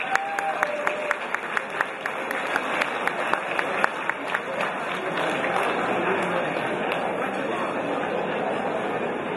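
Banquet crowd at the Ciociaro Club applauds the club president, sustained clapping from many hands in a hall, steady and fairly loud with murmured chatter underneath.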